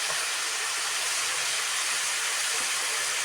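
Cucumber, glass noodles and egg stir-fried in a hot pan: a loud, continuous sizzling hiss with no pauses, close up and alone.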